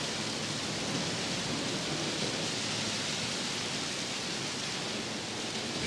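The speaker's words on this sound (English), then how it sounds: "We pause this metal song for a rainstorm." Steady, dense rainstorm hiss closing an album, a continuous even wash of falling rain with no music or voices over it.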